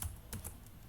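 Quick soft taps on a computer keyboard while entering a short name into a Python program, a few light keystrokes close by with no talking.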